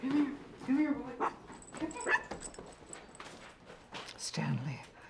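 A dog whimpering indoors in a film scene: a series of high, short whines and yips spread across the clip, with people talking between and over them.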